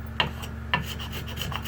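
Hand tool shaving wood on a gun stock under repair, two distinct rasping strokes close up followed by lighter scraping, over a low steady hum.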